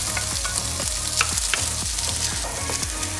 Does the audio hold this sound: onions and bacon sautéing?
yes